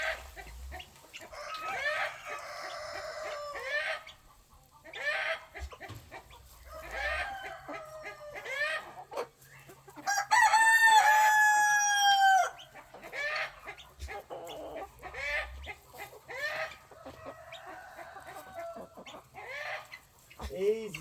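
Chickens in breeding bays cluck and chatter throughout, with one loud rooster crow rising midway; bursts are close and fairly loud, with a few quieter bird calls between.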